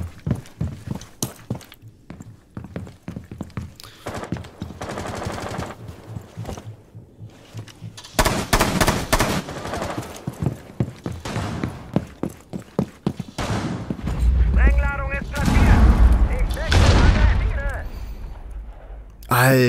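Gunfire from the video game Rainbow Six Siege, played on PS4: scattered shots and a few dense bursts mixed with game effects, running under almost continuous male speech.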